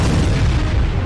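Explosion at a Krasnodar weapons depot in Russia, a loud sustained low rumbling boom filling the whole stretch with no voices.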